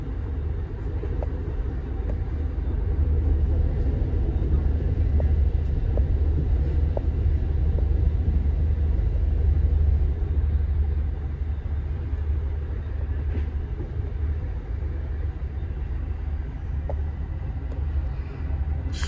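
Amtrak City of New Orleans passenger train running northbound at about 79 miles an hour on the main line near Edgewood, Illinois, heard from inside a roomette: a steady, loud low rumble with rail noise throughout, no talking.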